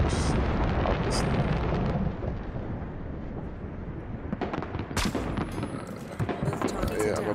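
A sniper rifle gunshot in Hitman (2016) during the Paris sniper assassin challenge: a loud, heavy boom with a long rumbling tail, followed later by a few sharper cracks, with someone talking over the action.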